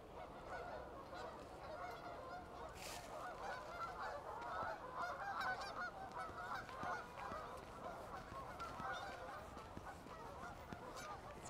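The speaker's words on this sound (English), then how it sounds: "Wow, look at all the geese." A large flock of geese honks steadily in freezing winter weather in downtown Oakville, Ontario, many overlapping calls forming a dense, continuous chorus heard from some distance with no talking.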